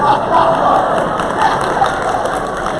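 A conference audience at DRJ Fall 2019 erupts in loud, sustained applause and cheering, a dense wash of clapping and crowd noise with no pauses.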